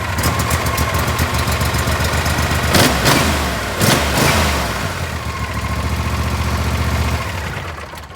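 A John Deere S130 lawn tractor engine runs loud and close from a cold start, with a rough mid-pitched idle. Two brief surges rise over the chugging before it settles back to a steady idle.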